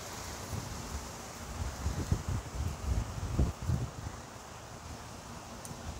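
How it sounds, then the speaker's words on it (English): Wind gusting through an outdoor garden, a soft broadband rush with low buffeting against the microphone, swelling in the middle and easing off, no voices. "It's been really windy today."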